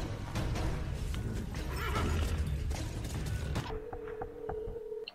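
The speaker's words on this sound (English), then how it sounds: "And I'm taking his horse." A horse neighs in the Western video game Call of Juarez, heard over busy game sound and hoofbeat clatter, followed by a few sharp mechanical clicks and a steady tone near the end.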